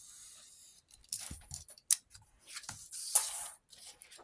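Scissors cutting through fabric, close and quiet: a few short, soft snips and slicing strokes with gaps of near silence between them.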